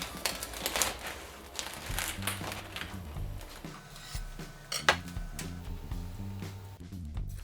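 A knife saws through a loaf of homemade brown sugar bread, giving close, steady rasping and crumbly scraping strokes with a few sharper crackles of crust.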